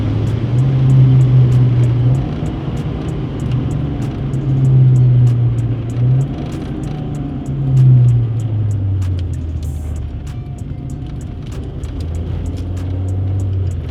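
A Honda D16 engine with a header, snorkel-delete intake and only a muffler is heard through its exhaust, revving up and dropping back on several downshifts as a loud, close, rising and falling drone with no talking.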